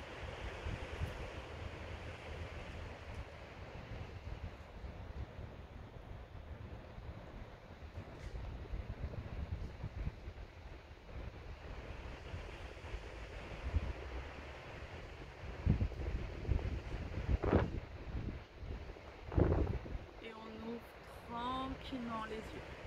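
Wind blows outdoors straight into the microphone, a steady low rumbling buffet that swells into stronger gusts near the end during an outdoor yoga session, with a voice talking faintly at times.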